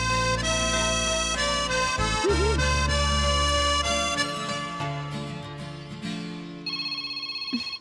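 Telephone ringing tone while a call is placed, a sustained electronic, tonal sound that fades midway and ends in a short run of rapid repeated pulses.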